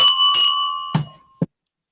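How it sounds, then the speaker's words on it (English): A meeting bell is rung by hand to open a Rotary Club meeting: four clear strokes, the first two ringing out and the last two short and damped, close and loud. "And with the traditional ringing of the bell,"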